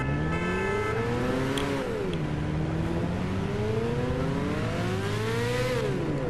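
Car engine in Gran Turismo 6 revving through gears, a loud, clean whine sweeping up, dropping at a shift, then climbing again, with no voices.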